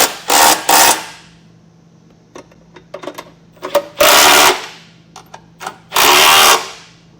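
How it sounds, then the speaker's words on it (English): A power impact tool with a 3/4 inch socket drives the large bolts of a Curt trailer hitch receiver on a 2022 Jeep Grand Cherokee, giving three loud close bursts separated by clicks and handling noises. "We'll get all the large bolts snugged down now using a 3/4 inch"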